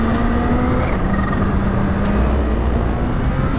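A Kawasaki Ninja H2 motorcycle being ridden on a test ride after repair, its engine holding a loud, steady drone with road noise throughout and no voices.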